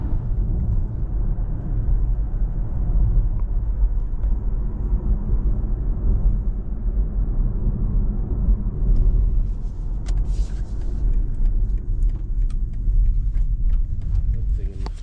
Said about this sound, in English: Traffic update, we are parked on the M18 now.